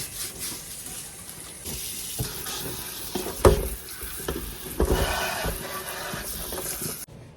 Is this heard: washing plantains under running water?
yes